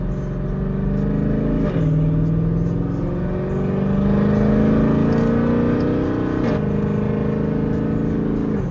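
A cammed Jeep with a 5.7 engine revs while driving, its loud engine tone climbing through the gears with shift dips in between, heard from inside the vehicle.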